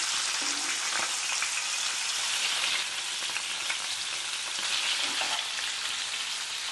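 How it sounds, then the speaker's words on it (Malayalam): Fresh-caught fish shallow frying in oil in a pan, a steady, bright crackling sizzle that runs on continuously and fairly close, with a couple of faint clinks underneath and no talking. "നമ്മളിതിനെ ഡീപ് ഫ്രൈ ഒന്നും ചെയ്യുന്നില്ല, നമ്മളിതിനെ ഷാലോ ഫ്രൈ ആണ് ചെയ്യുന്നത്."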